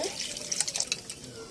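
Water pours into a pot of simmering desi chicken curry in a village kitchen, a brief splashing rush with soft trickles, close by and moderately loud.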